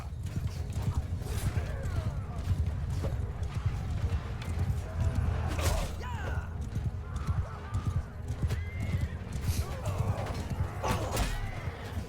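Horses gallop in the medieval battle game Mount & Blade II: Bannerlord during a fight against Khuzait horse archers, with dense, continuous hoofbeats and occasional neighs and clashing mechanisms close by, under a busy battle din.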